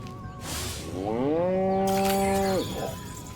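A cow in the video game Destroy All Humans! lets out one long, loud, close moo that rises, holds steady and then cuts off, with game ambience around it.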